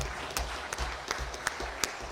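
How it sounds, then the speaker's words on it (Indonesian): Applause for council members at a Central Java governor's first speech, a fairly faint, even patter of clapping from a seated hall audience, with a few louder individual claps standing out. "Tepuk tangan untuk anggota Dewan."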